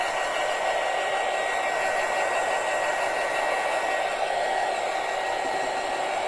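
A hair dryer blows on wet light purple paint on a tiered tray, giving a steady, close, continuous airy whoosh that holds an even level throughout, with no talking.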